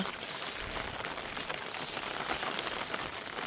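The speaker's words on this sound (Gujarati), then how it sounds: "હજુ વરસાદ બંધ નહીં થયો, એનું ચાલુ લગભગ 2 કલાક જેવું થયું." Steady rain falls on the fields of a farming village, a continuous, even hiss of drops close by that holds the same level throughout, with no voices.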